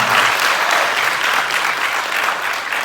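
Audience at a comedy contest breaks into steady, dense applause, many hands clapping continuously and fairly loud throughout, with no speech on top.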